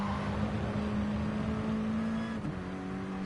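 Mini Cooper Cup race cars on medium tyres corner through Druids at Brands Hatch. A steady, loud engine drone with a sustained low tone holds throughout and dips slightly near the end, with no talk.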